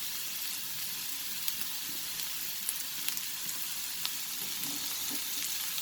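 Chopped carrots and French beans sauté in a pan for chicken fried rice, a soft, steady sizzle with faint scattered crackles and light stirring, fairly quiet and alone.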